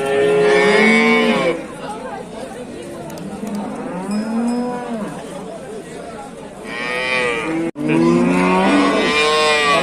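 A cow at a livestock bazaar in Dushanbe's Leninsky district moos loudly and close several times in long, drawn-out calls, with an auctioneer-style voice and crowd chatter underneath.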